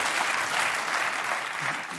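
A late-night talk show studio audience applauds loudly and continuously, a dense steady wash of clapping that fades slightly toward the end, with no voices over it.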